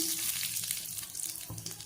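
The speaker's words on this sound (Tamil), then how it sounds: "இதை கொஞ்சம் கடுகு உளுந்து வந்து தாளிக்க போட்டுக்கிறேன்." Crackling, popping sizzle of mustard seeds and urad dal frying in hot oil, close and busy, with a brief stirring scrape partway through.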